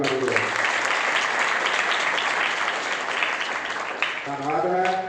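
A congregation at Gyanwan Church in Pind Karyal claps in a loud, sustained burst of applause that fills the room for several seconds, with a voice speaking briefly just before and just after it.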